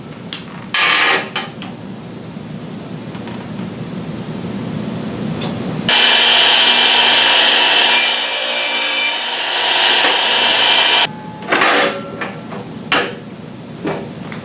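Wooden stock for blowdart projectiles being cut into short sections: bursts of rasping, scraping strokes, then a stretch of high-pitched whirring from a small rotary tool, followed by more scraping, loud and close.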